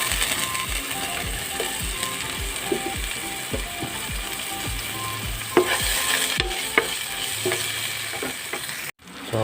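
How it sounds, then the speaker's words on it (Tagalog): Garlic and tomatoes sauté in a pan for a Bikolano pork igado, with a steady close sizzle under repeated rhythmic ratcheting clicks of a spatula or stirring tool, ending in a brief scrape. "So magkisa na kita. Nanta di bawang. Sunod ka na di kamatis."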